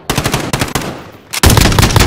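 Close, loud machine gun bursts crack out in Call of Duty: Modern Warfare, a rapid rhythmic string of shots in short volleys separated by a brief pause before a final burst.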